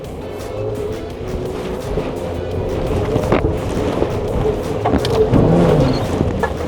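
An off-road car locked in second gear climbs a steep slope, its engine droning steadily and close, rising slightly in strain toward the end, with occasional knocks and scrapes from the terrain.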